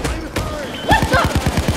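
Rapid shotgun blasts in the heist game Payday 2, a dense run of loud, evenly spaced shots firing in quick succession after a short pause, with a voice speaking briefly over the action.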